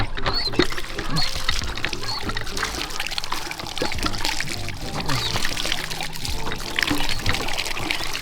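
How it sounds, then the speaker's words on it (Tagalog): Water gushing and splashing continuously from a hand water pump spout, with light clanks and a voice faintly in the background. "Ating pong poso."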